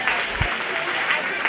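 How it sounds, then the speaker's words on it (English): Steady crowd applause at a 4-H/FFA cattle show fills the whole moment, a dense patter of clapping with a few sharper bursts, fairly close. "Let's go ahead and give all three of those cow-calf exhibitors a nice round of applause."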